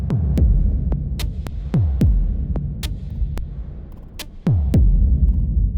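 Stretched church reverb impulse response used in convolution sound design, repeated sharp clicks each trailing a swooping low tail over a constant deep rumbling hum, loud and close.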